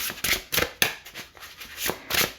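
Crisp, rapid riffling bursts of tarot cards being shuffled, several quick flurries in an uneven rhythm, close up.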